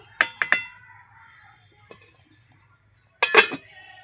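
A metal lid is set onto a pot of simmering Bengali fish curry, giving a few sharp clinks and clatters at the start and a cluster of rattling knocks near the end, with quiet gaps between.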